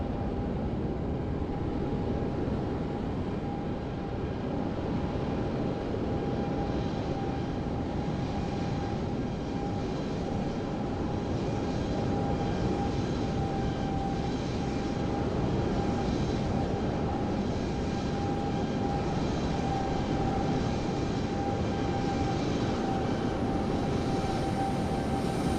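Airbus A320neo jet engines in Microsoft Flight Simulator 2020 at Copenhagen airport, a steady, continuous broadband roar with a high whining tone, loud and unbroken for the whole span, no voices.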